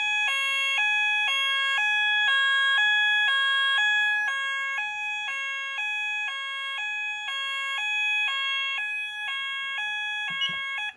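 An Apollo Alarmsense alarm sounds on a demonstration board, a loud, close two-tone electronic warble alternating in a steady rhythm throughout, with a short rustle near the end.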